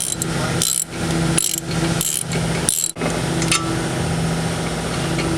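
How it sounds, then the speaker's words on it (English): A power driver whirs steadily while screws are run in during a transmission rebuild, its motor tone held for long stretches and cut by a few short pauses, loud and close with no speech. "And I'll just run them screws in."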